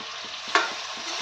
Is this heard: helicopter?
no